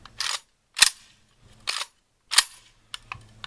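A rifle fitted with a bumpfire stock, with light primer strikes, gives sharp close cracks in a spaced series of about six, each separated by a brief silence.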